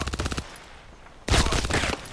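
Contract Wars gunshots rattle in a quick automatic burst, a short pause follows, then a louder, denser volley of fire.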